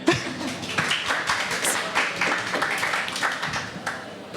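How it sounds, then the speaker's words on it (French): Scattered audience clapping on a French television panel show rises in a loose, uneven patter of hands, moderately close and without talk over it. "Là, on peut applaudir."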